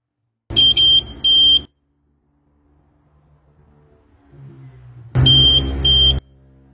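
Homemade motion-sensor alarm built around a TP4056 battery charger module, firing two bursts of shrill electronic beeping, each a pair of quick pulses, with a quiet rustle between them.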